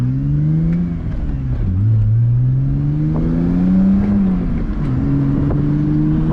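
A BMW E90 328i engine drones continuously from inside the car while driving. Its pitch rises and falls as the revs climb, then drops with each shift, and the engine stays loud and close throughout.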